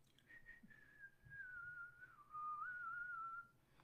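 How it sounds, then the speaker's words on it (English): A person whistles a slow, wavering tune, the melody drifting up and down in a single continuous line, fairly quiet and close. "a man, when he's very happy walking down the road, he's whistling a tune."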